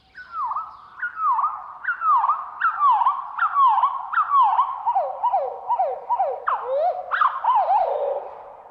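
A garden bird's song slowed to a quarter of its speed turns into a series of clear, falling whistled sweeps repeated evenly, close and fairly loud, with the last few notes rising higher and more varied.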